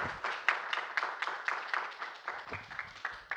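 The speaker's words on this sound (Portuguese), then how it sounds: "então vamos bater palmas para a Viviane" A small audience claps after a research presentation: a modest round of distinct, separate handclaps in a loose rhythm, fairly quiet and close, with individual hits easily picked out rather than a dense roar.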